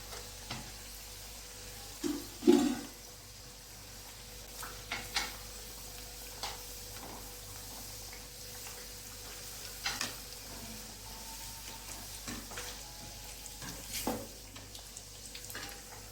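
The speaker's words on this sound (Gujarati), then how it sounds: "આપણું તેલ ગરમ થઈ ગયું છે તો આપણે પૂરી તરી લેશું" Puris deep-frying in hot oil, a steady soft sizzle with occasional clinks and stirring taps from utensils, fairly quiet and close, without talk.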